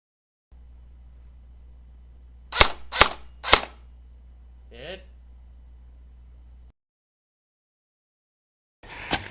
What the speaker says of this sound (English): How many shots of airsoft BBs would it take to shoot through?